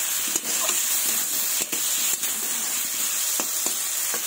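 Fish curry sizzling in a pan with salt and turmeric as it is stirred, a steady close frying hiss broken by a few soft scraping strokes of the spoon.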